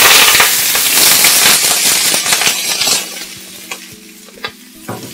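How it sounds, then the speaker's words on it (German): Garlic and pak choi vegetables frying in hot oil in a pan: a loud, close sizzle with stirring clatter that gradually quiets, leaving scattered pops and scrapes. "Das brutzelt jetzt schön."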